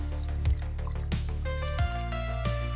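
Fluid poured into a car from a container, a close, steady liquid trickle broken by a few soft glugging gulps as it fills, with no talking.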